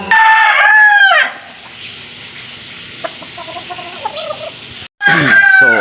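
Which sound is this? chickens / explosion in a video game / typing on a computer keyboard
chickens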